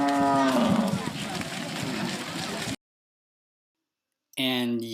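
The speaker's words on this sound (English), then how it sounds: "Or you could just sit and watch the cows come home." Cows moo loudly in a village in Burkina Faso, a long, deep bellow that fades out, then after a gap of silence another begins abruptly, close and dominant over outdoor ambience.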